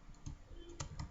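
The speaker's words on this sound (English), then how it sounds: "if you are just typing" A few soft keystrokes on a computer keyboard, three or four quiet clicks within about a second, close and with nothing else around them.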